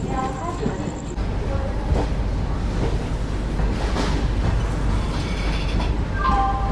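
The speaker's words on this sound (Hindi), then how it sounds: "अभी हम लोगों की ट्रेन एंटर कर चुकी है झांसी रेलवे स्टेशन पे।" A train rolls into Jhansi railway station with a continuous rumble and clatter of wagons, plus brief squealing tones and faint station noise throughout.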